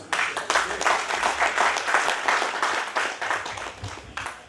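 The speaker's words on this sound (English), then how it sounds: "Let us give him a more thunderous clap." Audience at a Caritas Internationalis 50th anniversary gathering in Kasana-Luwero Diocese, Uganda, breaks into sustained, loud applause of many hands clapping, steady throughout with a brief dip near the end.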